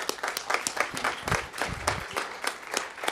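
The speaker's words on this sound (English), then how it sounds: "thank you very much for that round of applause" Audience applause at a village board meeting, steady clapping from many hands sustained throughout without talk over it.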